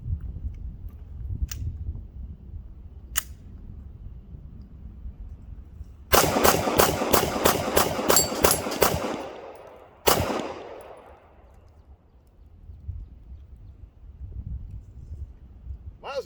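A Tisas Zigana PX9 Gen 2 pistol firing Blazer ball ammunition in a rapid string of about ten sharp, loud shots close together, then one final shot, with quieter shots earlier and outdoor range ambience between.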